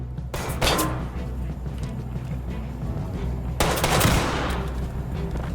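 Two sharp revolver shots ring out in Ready or Not, the first near the start and a second a few seconds later, each a loud crack with a short tail over a low steady background hum.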